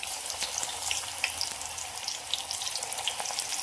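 Spinach bhaji fritters crackle and sizzle in hot oil, a steady close frying hiss full of small pops with no talking.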